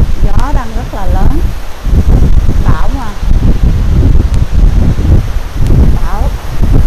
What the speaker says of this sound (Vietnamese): Gió đang rất là lớn.